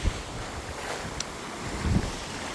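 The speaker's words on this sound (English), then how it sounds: "Get out here and listen to the waves, the breeze, the birds" Steady outdoor wash of wind and soft surf, with a low gust-like rumble near the end; no voices.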